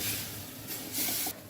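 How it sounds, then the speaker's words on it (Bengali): Spice paste sizzling with bottle gourd and ginger paste in a pan, a steady close hiss that surges louder in two bursts. "এবার মশলা দিয়ে ভালো করে কষিয়ে নিব"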